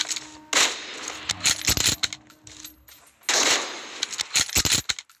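Rapid bursts of gunfire in the video game BGMI crackle in quick volleys, separated by short pauses, with sharp individual shots scattered between the louder bursts.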